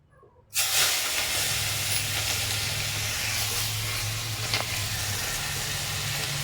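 Onions hit a hot oiled pan with a sudden burst of hiss, then settle into a loud, continuous sizzle close by. No one talks.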